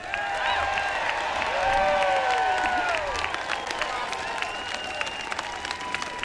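A crowd stands and applauds after a governor's inauguration speech in Michigan, steady sustained clapping filling the space with voices mixed in beneath it.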